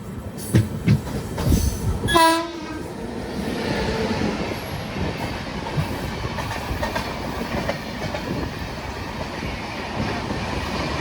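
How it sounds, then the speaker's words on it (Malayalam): Amrit Bharat Express passenger train running on the Thiruvananthapuram to Mangaluru route, heard from on board: a steady rumbling roar of wheels on rails throughout, with a brief horn-like tonal blast near the start. "അപ്പോൾ നമ്മളിപ്പോൾ അമൃത് ഭാരതിലാണ് യാത്ര ചെയ്തുകൊണ്ടിരിക്കുന്നത്"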